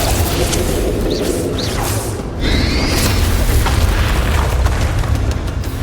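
Spell combat in Hogwarts Legacy fills a boss battle with booming blasts from the Bombarda spell, loud layered rumbles, magical whooshes and bursts with a sharp impact midway.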